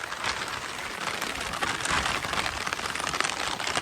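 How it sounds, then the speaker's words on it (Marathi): Heavy rain pours steadily on a rural monsoon day, a dense, continuous hiss of drops drumming on surfaces and cloth, loud and close throughout with no pauses. "पाऊस आलेला इकडं जाम पाऊस"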